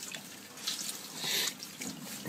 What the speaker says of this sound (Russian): Помахали, и пошла вода.